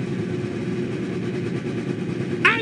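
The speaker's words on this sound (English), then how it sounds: "Up go the revs." Formula 3 race cars on the Macau Grand Prix starting grid hold a steady, droning engine note together, with a sharp rising rev flaring up briefly just before the end.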